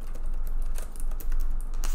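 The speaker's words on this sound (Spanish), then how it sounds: "Ahora mismo estoy escribiendo con el teclado del portátil." Laptop keyboard typing, a steady run of light, rapid key clicks with a few louder taps, heard alone with no talking.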